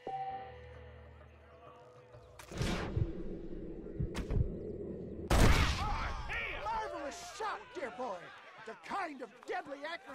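Revolver shots crack in a Wild West shootout in Red Dead Redemption, a few sharp loud bangs with echoing tails, followed by spoken dialogue over the fading reports.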